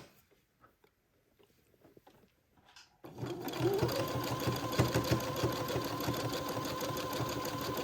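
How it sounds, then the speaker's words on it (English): A sewing machine zigzag-stitches around a day gown; after a few faint handling sounds it starts abruptly and runs at a steady, rapid, close-up whir to the end. "So I'm going to start my zigzag about 1/2 inch before that back seam"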